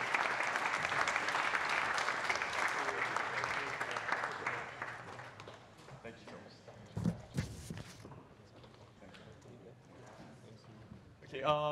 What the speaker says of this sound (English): you join me in giving them a round of applause once again